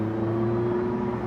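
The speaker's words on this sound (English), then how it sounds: "I actually really like the feel of the electric motors spooling in." Electric motors on a Porsche 918 Spyder hybrid hypercar spooling up while driving in fifth gear, a loud steady whirring hum over a rumbling cabin drone, brief and continuous.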